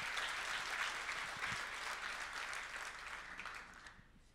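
Warm audience applause at a debate on the position of Arameans in Turkey, a dense, steady wash of clapping that gradually thins and fades away at the end.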